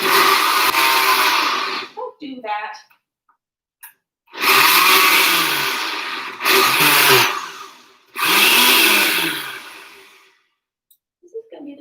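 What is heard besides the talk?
blender blending leftover fruit pulp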